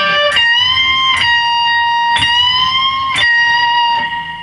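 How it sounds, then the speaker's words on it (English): Electric guitar playing a rock and roll lick, four bright bent notes picked in an even rhythm with ringing sustain, close and clear with no talk. "Do kind of a typical rock and roll little lick."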